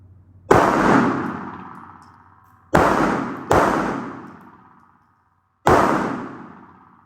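Four loud, sharp shots from an FN 509 CC Edge XL pistol at an outdoor range, each a sudden crack with a lingering echoing tail, two closely spaced in the middle and separated by quiet gaps.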